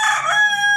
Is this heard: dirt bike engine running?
no